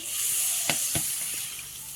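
Water hits potatoes that were fried with spices for a dal bora curry, giving a steady hissing sizzle with two short sharper bursts of steam partway through. Nobody speaks.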